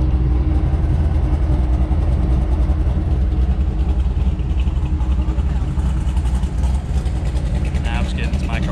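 A car engine idles with a choppy, lumpy rhythm in a steady loud low rumble close by, running unbroken throughout, with someone talking over it.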